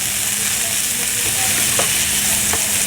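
A burger patty sizzling loudly in a hot pan, a bright continuous hiss close up with a couple of soft scraping bumps as it is flipped, and no speech.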